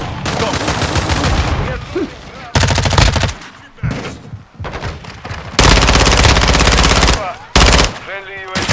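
Rapid automatic gunfire in Call of Duty MW2 on the Shipment map, loud sustained bursts of machine-gun fire broken by short pauses, with occasional game voice callouts between the volleys.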